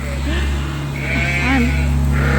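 Ewes bleating in a pen area on a sheep farm, several wavering calls overlapping at moderate distance over a steady low background hum.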